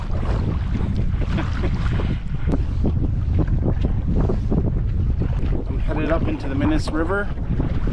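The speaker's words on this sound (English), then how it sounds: "nice firm headwind" A firm headwind buffets the microphone while canoeing up a river, a loud, continuous roar and rumble with gusty bursts, as someone talks briefly over it.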